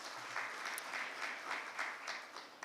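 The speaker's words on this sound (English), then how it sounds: "Can we have a round of applause," Audience applause at a national review conference on a crop insurance scheme, a steady, fairly faint wash of clapping from a large room that continues evenly throughout.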